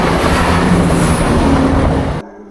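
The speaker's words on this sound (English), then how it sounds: "let's get this train going over the level crossing" Sheffield to Scarborough train rolling over the level crossing at Broomfleet station, a loud, close, continuous roar of wheels and rail noise that holds steady, then cuts off abruptly near the end.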